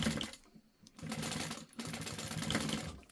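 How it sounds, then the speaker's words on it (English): A sewing machine backstitches a sling bag in close, rhythmic bursts of rapid stitching, with a short pause and a brief stop between runs. "And I am going to backstitch."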